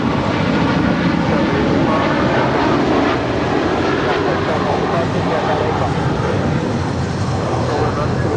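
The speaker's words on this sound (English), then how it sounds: "This is Cathay Pacific A85 departing to Hong Kong on a 777-300ER" A Cathay Pacific Boeing 777-300ER departs LAX, its jet engines a sustained, loud rumbling roar that holds steady throughout, with someone speaking over it.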